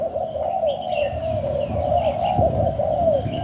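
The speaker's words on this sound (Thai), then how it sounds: "ตัวนี้คูมากนะครับผม" Spotted dove cooing from a perch, repeated soft rolling coos with steady rhythm, close and fairly loud over light background noise.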